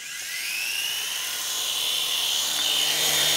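A small remote-controlled toy helicopter's motor whines at a high pitch, spinning up and holding a steady, buzzing drone nearby.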